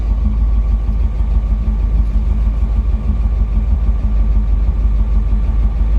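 A 1959 Chevy with a three-on-the-tree column shifter idles steadily, its engine a loud, low, even rumble heard from inside the car, with no voices over it.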